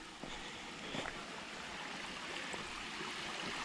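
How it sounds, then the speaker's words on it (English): A small waterfall pours over an old mill dam in Nockamixon State Park, a faint, steady rushing wash with a few soft splashes, heard alone from a short distance. "This might be what they were talking about, the waterfall."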